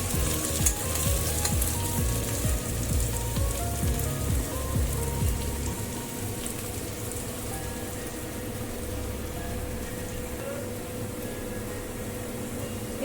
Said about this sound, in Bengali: আমি আরো একটু ভাজা ভাজা করবো পেঁয়াজটা।